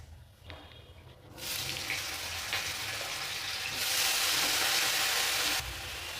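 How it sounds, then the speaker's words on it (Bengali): Eggplant frying in hot oil in a kadai (wok): a loud broadband sizzle bursts in after a quiet first second and holds steady, swelling brighter toward the end, with no voices. "বেগুন ভেজে নেব।"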